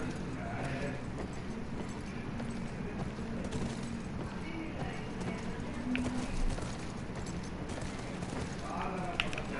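Hooves clop along in a loose rhythm amid rustling movement in The Last of Us gameplay, fairly quiet, with scattered sharp cracks like distant gunfire.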